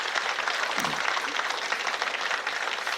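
A church congregation applauds its young adults during a special Thanksgiving dawn prayer service, continuous brisk clapping from many hands, fairly even and sustained, with no voices on top.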